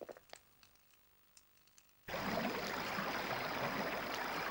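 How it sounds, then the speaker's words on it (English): A waterfall in the PS1 game Gold and Glory: The Road to El Dorado: after two seconds of quiet, a loud, steady rushing roar of falling water fills in and holds to the end. "Look! A waterfall!"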